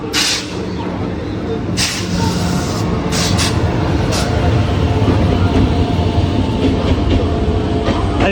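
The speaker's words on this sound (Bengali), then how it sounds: "আমাদের পেছনের ট্রেন ভারতবর্ষের দ্রুততম লোকাল ট্রেন" A Bardhaman–Howrah chord line super local electric train rumbles past close by, a continuous loud roar with rhythmic clattering of wheels on rails.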